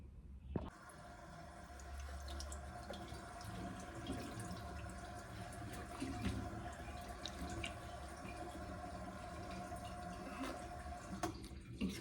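Tap water runs steadily into a sink while someone washes their face, with splashing and dripping through most of the stretch. It stays close and continuous, with no talk.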